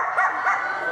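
A young woman at a school event imitates a dog barking, giving a short run of close, loud yips and bow-wows over about a second.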